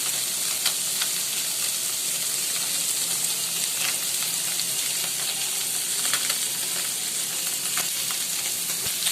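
Surma fish frying in oil in a pan on a home kitchen stove, a steady close sizzle with crackling pops and occasional stirring scrapes throughout, no voices.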